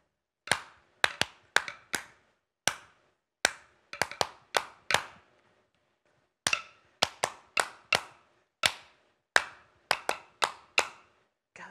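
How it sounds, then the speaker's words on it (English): A group claps a basic Cook Islands drum rhythm in a drumming workshop, sharp close hand claps in quick clustered patterns with short pauses between phrases. "We're going to clap that basic rhythm together."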